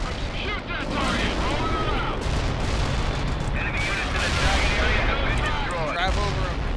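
Tank cannon blasts and rattling gunfire in the World in Conflict video game, a dense continuous battle din of booms and bursts with voices shouting over it.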